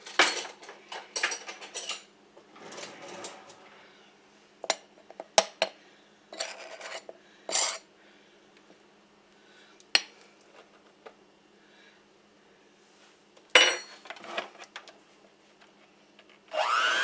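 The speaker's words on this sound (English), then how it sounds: "So now we're going to add a total of 3 cups of self-rising flour" Self-rising flour is stirred into melted ice cream in a bowl, giving irregular bursts of scraping and clinking from a utensil against the bowl, separated by quiet pauses, with no talking.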